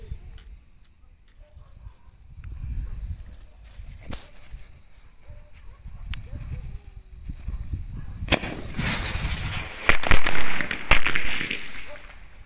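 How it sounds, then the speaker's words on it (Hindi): Diwali firecrackers burst outdoors, a cluster of sharp cracks and pops followed by a crackling, sparkling burst of several explosions in quick succession. "अब करते हैं नेक्स्ट पटाखे की टेस्टिंग"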